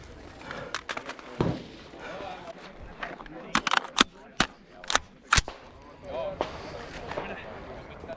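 Rifle gunshots on a stage of a Finnish shooting competition, heard as a run of sharp, loud cracks in quick succession amid crowd noise and speech.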